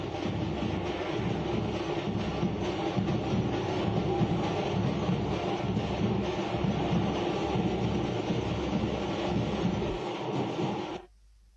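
A train carrying the Somnath Swabhiman Yatra pilgrims pulls out of Rani Kamlapati railway station, a loud, steady rolling rumble with rattling wagons that holds for about ten seconds and then cuts off abruptly.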